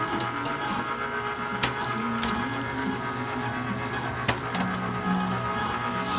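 A Weston #22 electric meat grinder grinds raw dog food with a steady, close mechanical whir and hum, broken by occasional sharp clicks.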